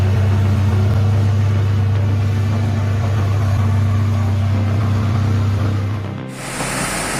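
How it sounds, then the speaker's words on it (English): Heavy wood grabber truck pulling a cart loaded with wood along a slippery, muddy road, its engine a deep, steady laboring drone that cuts out abruptly near the end, leaving a hissy rush. "The powerful wood grabber is struggling to pull the cart loaded with wood through the slippery road."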